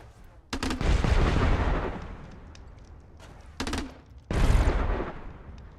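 Bursts of rapid weapon fire from the pixel shooter game Untitled Pixel Simulator, including an acid shooter with a heavily increased fire rate: loud sharp volleys with booming tails, separated by a brief lull, no speech.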